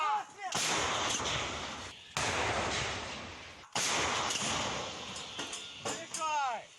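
Three heavy artillery gun blasts boom in succession at a front-line position near Soledar and Bakhmut, each a loud broadband crack with a long rumbling decay, and a brief shout of speech in between.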